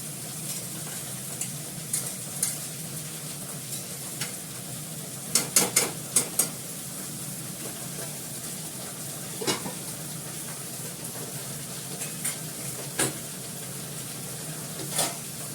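Cabbage and potato cook slowly in a pan over low gas, a soft continuous sizzle and simmer with scattered light stirring clicks and a few sharper utensil taps, fairly quiet and without talk.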